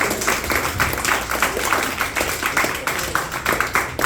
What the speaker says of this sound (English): Clap it up for my regulars that be coming through.